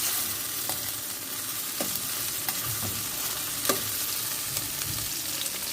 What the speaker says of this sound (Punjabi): ਚੰਗੀ ਤਰ੍ਹਾਂ ਆਪਾਂ ਇਹਨਾਂ ਨੂੰ ਫਰਾਈ ਕਰ ਲਾਂਗੇ ਦੋਵੇਂ ਸਾਈਡ ਤੋਂ ਚੰਗੀ ਤਰ੍ਹਾਂ ਆਪਾਂ ਟਮਾਟਰ ਨੂੰ ਪਕਾ ਲਾਂਗੇ